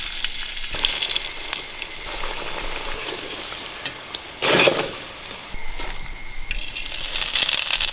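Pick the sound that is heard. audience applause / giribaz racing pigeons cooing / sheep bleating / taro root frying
taro root frying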